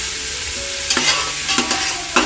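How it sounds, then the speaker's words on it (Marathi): Onion, garlic, curry leaves and ginger-garlic paste sautéing in a large pot of chicken rassa for a big batch, with a steady sizzle and a few scraping stirs of a spoon, no talking. "सर्व व्यवस्थित परतावून घेतो"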